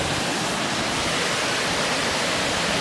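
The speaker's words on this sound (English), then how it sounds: "there's a better view of the waterfall" A creek waterfall pours in a steady, dense rush of water, loud and close with no break and no voices.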